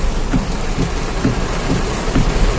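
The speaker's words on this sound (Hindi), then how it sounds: "बारिश देखो कितनी तेज आ चुकी है।" Heavy rain pours down on a street in Gurgaon in a dense, continuous hiss, with a soft rhythmic thumping underneath and no voices.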